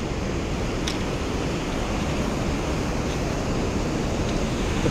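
A mountain river on the Langtang trek rushes nearby, a dense, even roar of flowing water that holds steady throughout with no voices.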